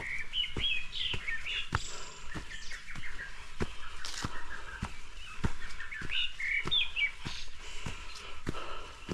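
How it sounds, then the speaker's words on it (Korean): Several birds chirp and trill along a forested mountain trail at dawn, bright calls scattered through the clip over regular crunching footsteps of a hiker walking uphill, fairly quiet overall. "현재 새소리를 들으면서 하산하는 길에 오르막구간입니다."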